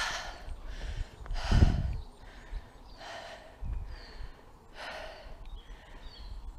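A person puffs and pants on a steep uphill morning walk with several dogs, heavy rhythmic breaths in and out repeating close to the microphone, some louder gasps among them, with no talking.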